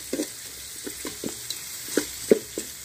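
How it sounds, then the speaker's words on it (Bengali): Onion frying in a pan sizzles softly under a few light, close scrapes of a stirring utensil, with no voices. "এখন আমি পেঁয়াজটাকে বন্ধুরা কিছুক্ষণ ভেজে নেব।"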